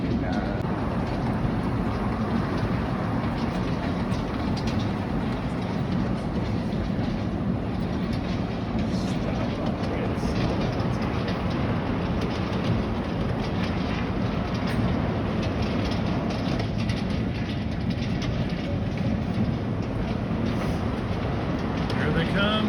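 A recorded Chattanooga Choo Choo train sound plays at an airport baggage claim as bags arrive: a steady, loud rumbling and clattering of rolling rail cars that runs unbroken throughout, with people talking over it.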